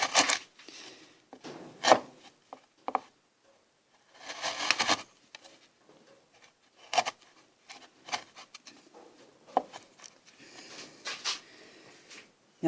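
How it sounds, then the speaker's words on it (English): Hand carving of a hardwood letter with a gouge: a string of short, scraping wood cuts and shaving rasps in irregular bursts, close and fairly quiet, separated by brief pauses, with no voices. "For anything that's curved, I'll use gouges."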